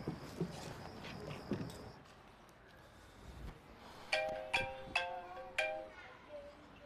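An outgoing mobile phone call gives a ringback tone of several evenly spaced electronic beeps, fairly faint, heard after some quiet background chatter and bustle at a Beijing barbecue spot.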